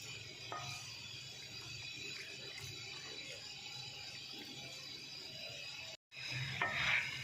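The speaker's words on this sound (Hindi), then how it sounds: "चिकन को हमने अच्छी तरह फ्राई कर लिया है" Marinated chicken sizzles and fries in a pan, a steady hiss with occasional stirring scrapes, close and fairly quiet; a brief dropout cuts the sound before the sizzling returns, and there is no talking.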